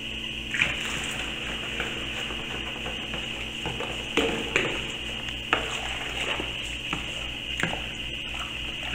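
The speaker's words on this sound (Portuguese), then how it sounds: "Agora eu vou colocar aqui, ó, tem 2 litros de água em temperatura ambiente." A second litre of room-temperature water is poured into a container for homemade liquid soap, a continuous close gushing stream with occasional knocks and splashes, with no talking.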